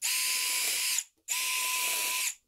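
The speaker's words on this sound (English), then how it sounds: "drill countersink pilot holes and secure the cleat with screws" Two bursts of a power drill whirring at high speed, driving screws into wood, each about a second long, separated by a brief pause, close and loud.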